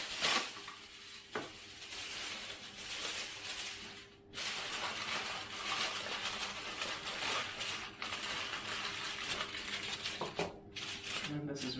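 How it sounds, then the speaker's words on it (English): Aluminium foil crinkles and rustles steadily as it is wrapped around a prepared dish in a home kitchen, close and continuous with brief pauses, and a voice speaks over it. "And I'm just going to wrap this in some foil."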